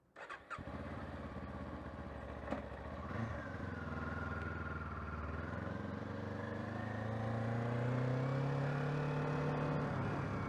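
Kawasaki 500 motorcycle engine starting with a brief crank and catch, then settling into a steady running note that swells as revs rise, close and loud with no talk.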